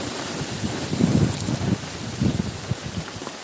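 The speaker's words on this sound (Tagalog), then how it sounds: "malakas yung ulan gawa ng lakas ng hangin." Heavy rain driven by strong wind makes a loud, continuous rushing wash, with gusty low rumbling buffets swelling and easing throughout.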